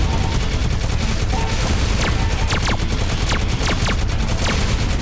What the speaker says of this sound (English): the soundtrack is the sound of bullets